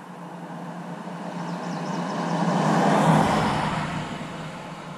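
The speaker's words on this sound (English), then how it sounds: "We'll wait and see if a car goes by." A car descending a steep stretch of road where the air smells of hot brakes, its engine and tyre noise rising gradually as it nears, peaking mid-pass and then fading as it moves off, with no voices.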